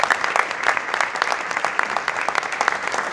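Dense, steady applause from an audience at the Premios Romeo Gavioli 2019 awards ceremony, many hands clapping continuously and fairly loudly throughout.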